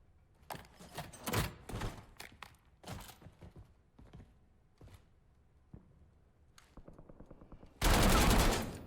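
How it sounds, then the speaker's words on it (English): Gunfire in Call of Duty Warzone as a player shoots at a wall: scattered sharp shots and short bursts, then a dense, loud burst of rapid fire near the end, with little else around it. "He tried to shoot that wall"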